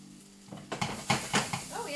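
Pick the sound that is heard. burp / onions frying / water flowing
onions frying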